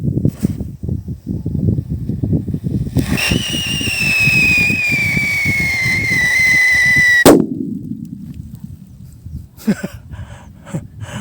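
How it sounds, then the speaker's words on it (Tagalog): A jumbo whistle bomb firework goes off outdoors: a rising, slowly falling shrill whistle lasts several seconds, then ends in one loud sharp bang, followed by fainter pops and crackles in the distance. "Jumbo whistle bomb ni Boss TC. Testing natin."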